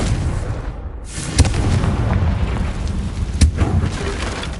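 A Confringo fire spell from Hogwarts Legacy bursts with sharp booming explosions, one near 1.4 seconds and another around 3.4 seconds, over a steady low rumbling background.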